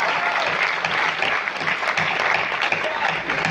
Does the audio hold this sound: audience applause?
yes